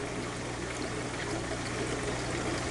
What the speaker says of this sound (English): you can also put your siphon into the surface of the sand, like this, which can really give it a fresher appearance